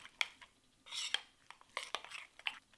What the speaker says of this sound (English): Now add the cilantro and green chilies and mix it well.